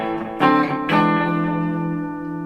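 An electric guitar plays through a Marshall Origin 20 amp with a little reverb in the effects loop: two strummed chords ring out and sustain with a wet tail, alone and fairly loud, in a bedroom setting.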